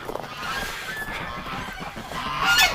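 A group of ducks outdoors on a cold morning gives a continuous stream of honking, nasal quacks, close and fairly loud, with the calls growing louder toward the end.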